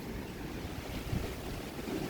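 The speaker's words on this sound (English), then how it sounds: "And there's constant wind gusts." Strong, constant wind gusts during a heavy thunderstorm in southeastern Pennsylvania, a broad steady roar buffeting the microphone with slight surges, no voices.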